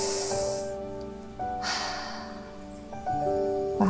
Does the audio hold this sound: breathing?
yes